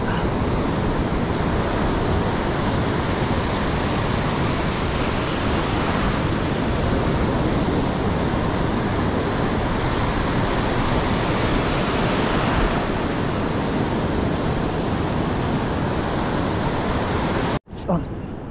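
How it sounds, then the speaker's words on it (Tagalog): Loud, steady roar of big ocean waves crashing continuously, broadband and close, cutting off abruptly near the end. "lalaki ng alon."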